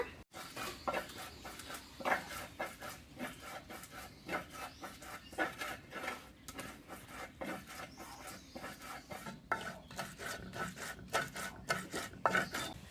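Boiled lentils with green chilli, onion and garlic ground by hand against a stone, a rhythmic, close rasping and rubbing, stroke after stroke with uneven pulses, moderately quiet and with no voices.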